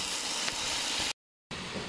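Meat for plov sizzles and crackles in a pot over an intense open fire, a dense steady hiss that cuts out briefly before resuming, with no voices.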